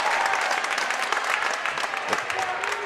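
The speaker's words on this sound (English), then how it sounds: "Milford crowd right in front of us, so we'll keep the crowd mic down a little bit here. You might get a little loud in this gym." A high school basketball crowd in a Milford gym claps and cheers in a dense, continuous wash of applause, loud and close throughout.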